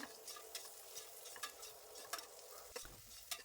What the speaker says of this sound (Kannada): ಈರುಳ್ಳಿ ಸಾಫ್ಟ್ ಆಗೋ ತನಕ ಎಣ್ಣೆಯಲ್ಲಿ ಫ್ರೈ ಮಾಡ್ಕೊಳ್ಬೇಕು